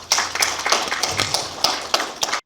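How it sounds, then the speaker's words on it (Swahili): An audience claps for Adija, a burst of irregular, fairly close hand claps from a modest crowd that stops abruptly after a couple of seconds. "Kwa hiyo tumpigie makofi jamani Adija."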